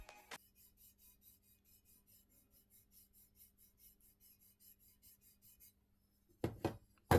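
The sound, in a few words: parts rubbing against an airsoft rifle gearbox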